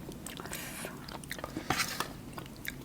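Close, loud crunchy chewing of mushroom curry with red ant eggs, with sharp bites and wet crackles in a quick, uneven rhythm and no talking.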